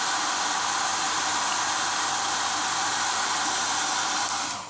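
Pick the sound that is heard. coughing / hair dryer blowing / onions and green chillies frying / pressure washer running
hair dryer blowing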